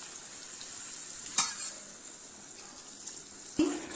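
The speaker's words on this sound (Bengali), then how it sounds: "বেগুনগুলো দিয়ে দিলাম আমি এখন। বেগুনের ভিতরে মশলাটা দিয়ে আমি ভাজা করেছি" Spiced eggplant pieces fry in a pan with a faint, steady sizzle, broken by two brief clinks of a utensil against the pan.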